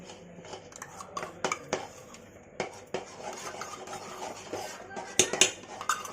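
Ground makhana and gum being stirred into jaggery in a pan, with a spoon scraping and clinking against the metal in irregular bursts, fairly faint and close, no talking.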